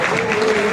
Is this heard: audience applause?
yes